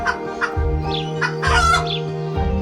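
Chickens cluck in short repeated bursts close by, with a steady background hum.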